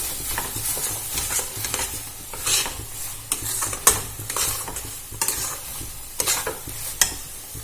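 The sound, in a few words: stir-frying amchur posto mixture in a pan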